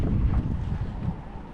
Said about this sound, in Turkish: Artık rüzgar beni geri itiyordu.